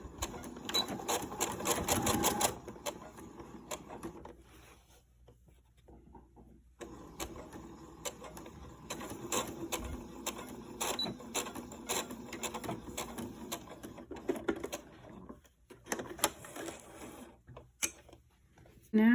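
A sewing machine runs in steady bursts, stitching back over existing seams on fabric for a chicken grocery bag holder, with a short pause midway before the motor resumes, fairly close.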